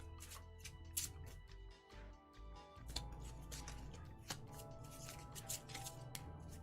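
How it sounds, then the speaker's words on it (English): Magic: The Gathering cards are shuffled by hand in quiet, crisp bursts of flicking clicks, repeated several times at close range over a low steady background hum. "Just shuffle magic cards while I wait for somebody to tell me what I'm doing."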